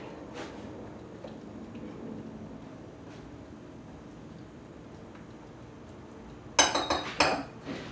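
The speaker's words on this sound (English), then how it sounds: "And then give it a whisk." A whisk beats a gelatin and curd mixture in a bowl for a Greek coconut syrup cake. After a quiet stretch, a short burst of rapid metallic clinking and scraping comes up close near the end.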